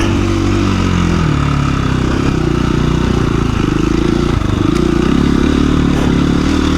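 A KTM 350 EXC-F motorcycle riding off-road, its engine loud and close throughout with a throbbing low drone that rises and falls as the throttle changes, along with some clattering.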